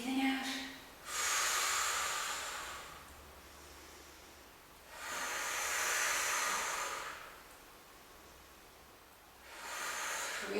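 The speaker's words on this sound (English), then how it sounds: "Breathing in, breathing out." Slow, steady breaths in and out during a foam roller exercise, each breath a long airy hiss lasting a few seconds with quiet pauses between, close to the mic.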